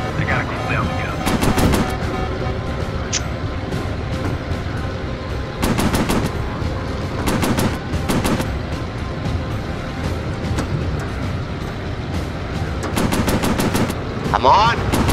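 Aircraft machine gun firing in the Warplanes VR video game over the Pacific, repeated short bursts of rapid fire over a constant engine drone, loud and close.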